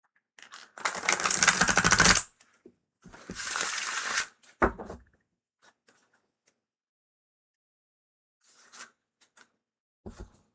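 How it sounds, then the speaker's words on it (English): Tarot cards are shuffled close up in two quick riffling bursts, followed by a short slap and a few faint soft taps in a quiet room. "they shuffle like butter."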